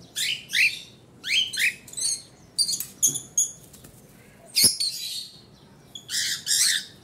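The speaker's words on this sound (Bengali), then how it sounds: "দেখেন এখানে ককাটেল পাখি কয়টা বের করলাম আমি" Several cockatiels let out of their cage into a room, giving loud bursts of shrill squawks and chirps in irregular clusters with quiet gaps between, plus a brief flutter.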